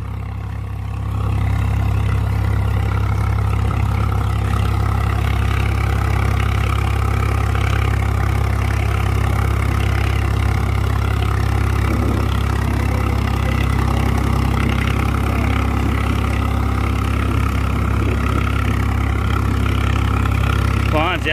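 A Swaraj tractor's diesel engine runs steadily throughout a mileage test, a loud, close, continuous low rumble at idle with no break.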